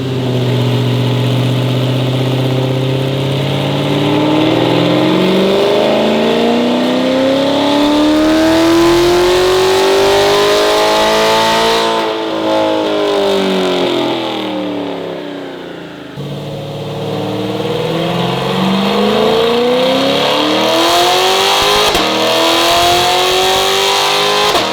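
A 2023 C8 Corvette with headers, air intake and aftermarket exhaust revving hard on a dyno, its engine note sweeping up and down in long, loud pulls, two runs in a row.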